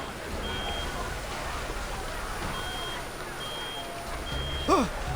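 A faint repeating electronic alarm tone from Reverse: 1999 sounds in short spaced beeps under a steady rumbling machine background, with a brief voice-like sweep near the end.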